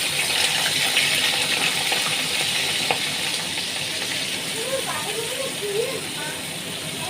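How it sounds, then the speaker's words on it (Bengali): Cabbage sizzling in hot oil in a home kitchen pan, a steady broadband frying hiss that holds through the whole stretch, with a faint clink and a few soft bubbling chirps near the end. "আর এখন তেলের মধ্যে এই যে বাঁধাকপি দিয়ে দিলাম"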